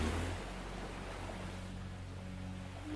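Sea waves wash in a steady, broad rush of surf with no distinct breaks, soft and fairly distant, under a faint low hum.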